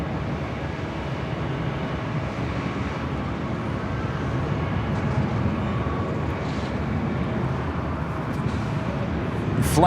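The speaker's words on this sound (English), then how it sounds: "flying over our head was Alaska SkyWest" An Alaska SkyWest Embraer E175LR airliner arriving at LAX passes overhead, a steady, broad jet rumble and whine holding at moderate volume throughout, swelling slightly toward the end.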